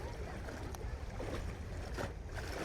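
A boat pulls away on the Pereira de Miranda reservoir, a low steady engine rumble with water wash and wind noise, faint and somewhat distant, with occasional light knocks.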